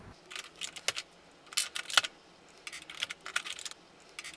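Keycaps are pulled one after another off a Unicomp Model M keyboard, a close, irregular series of sharp plastic clicks and snaps, with no talking.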